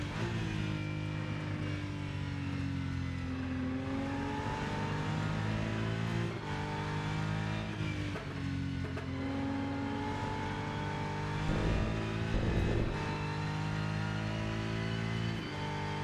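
A racing engine in the racing game Rennsport drones and revs steadily with shifting pitch, a continuous loud motor roar with brief surges near the end.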